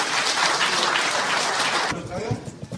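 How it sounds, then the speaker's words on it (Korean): Applause from former association presidents seated at a general meeting in Los Angeles, a dense clapping wash for about two seconds that fades out as a voice begins speaking. "우리 지금 자리에 앉아 계시는 선배 회장님들은 박수 한 번 더 주시겠습니까?"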